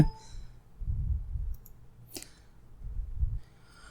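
A computer mouse clicks once, sharp and close, during video editing on a computer, with quiet room noise and faint breathing around it.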